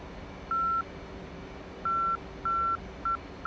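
Navigation station Morse identifier in the DCS flight simulator, a thin steady tone keyed in four short beeps of differing lengths over a low hiss of cockpit noise.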